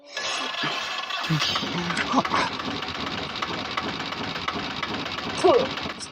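An auto rickshaw engine cranks and chugs into an uneven, rattling idle, close and continuous, with people talking over it.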